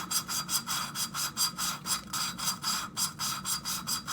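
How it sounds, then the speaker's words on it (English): Lapping compound grinds between parts of a Honda ATC 200x engine, making a close, even gritty rasp that pulses in a steady back-and-forth rhythm about twice a second. "when the compound is getting ground down, and you can hear it."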